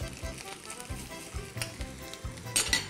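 Raw garlic frying in a pan: a close crackling sizzle with repeated stirring knocks and scrapes in an uneven rhythm, fairly quiet and with no voices.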